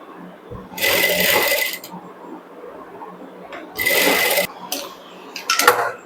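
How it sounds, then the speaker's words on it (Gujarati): A sewing machine stitches bias binding onto a blouse neckline in three short, close runs of whirring stitches, separated by pauses with quieter handling noises. "બાયને ખેંચ્યા વગર આ રીતે શેપમાં સિલાઈ લગાવો. જે શેપ છે એ શેપમાં જ બાયને મૂકતા જાઓ અને સિલાઈ લગાવતા રહો."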